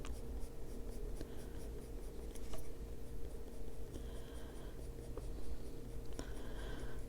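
Colored pencil drawing short lines on paper for an adult coloring page of a bird, a steady close scratchy rasp with light repeated strokes throughout.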